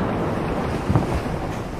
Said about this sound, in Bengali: মেঘের গর্জন, বজ্রপাত, ঢেউ ক্রমশ তীব্র হচ্ছে